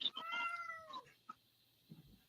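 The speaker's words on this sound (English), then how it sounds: "kitty cats are making noises again." A house cat gives one clear, drawn-out meow up close, followed by a few softer faint chirps and small sounds in a quiet room.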